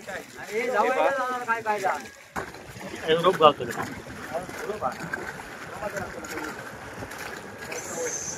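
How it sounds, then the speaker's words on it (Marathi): A fishing boat's engine churns over wind and sea noise as the boat comes in to a beach at Malvan, with people talking loudly nearby. "आता आपली होडी किनाऱ्यावर जवळ आली"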